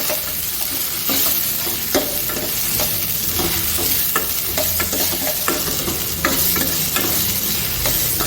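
Cut tomato and one or two green chillies fry in a pan for a greens sambar paste, a dense continuous sizzle broken by frequent close spatula scrapes and clicks.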